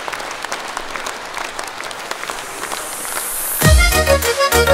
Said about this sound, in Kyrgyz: Кол чабыңыздар